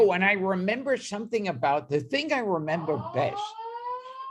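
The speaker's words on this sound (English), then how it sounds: "we got the alarm again" A fire alarm sounds with steady rising tones near the end, after someone speaks over a faint siren-like wail indoors during an interview.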